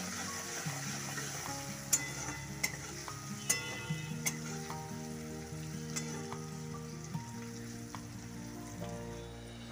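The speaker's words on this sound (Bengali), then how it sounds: "ফুলকপিটা নরম করার জন্য তেলের মধ্যে আমি সামান্য পরিমাণ লবণ দিয়ে দিচ্ছি আর দিয়ে দিচ্ছি সামান্য পরিমাণ হলুদ গুঁড়ো।" Cauliflower fries in hot oil with salt and turmeric, a steady soft sizzle with occasional sharp pops and crackles, close and fairly quiet, with no voices.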